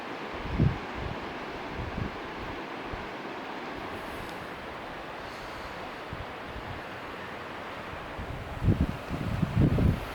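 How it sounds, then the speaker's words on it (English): Wind blows steadily outdoors beside a river, a broad rushing roar with gusty buffeting that thumps the microphone near the start and again near the end. "the wind started to kick up here"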